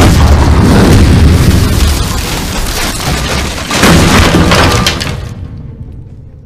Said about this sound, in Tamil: இப்போ குண்டு போட போகிறாங்க